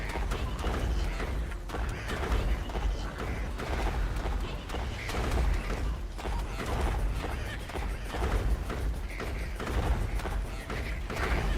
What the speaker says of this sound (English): The explosions are nice